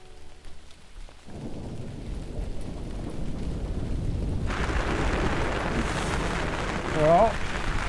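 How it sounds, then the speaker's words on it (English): Heavy rain pours steadily in the mountains as a dense, continuous hiss, growing fuller partway through, with a brief louder swell near the end. "Pouring rain, a little more than anticipated."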